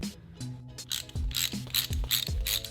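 A windshield wiper arm puller tool being screwed down onto the wiper stud of a smashed Audi R8, giving a close, repeated ratcheting click with a few sharp metallic snaps at a steady rhythm.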